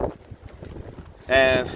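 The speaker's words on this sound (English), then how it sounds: "it is pretty windy" Gusty wind on a beach buffets the microphone in a low rumble, with people talking briefly over it before a sharp tonal burst near the end.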